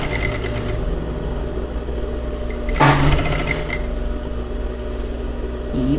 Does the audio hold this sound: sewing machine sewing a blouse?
yes